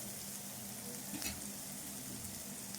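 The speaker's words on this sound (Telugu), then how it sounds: "ఈ చేపలన్నీ ఇట్లా కొద్దిసేపు నూనెలు ఫ్రై చేసుకోవాలి." Dried fish frying in oil, giving a steady, soft sizzle throughout with a brief stirring rustle in the middle; quiet and continuous, with no voices.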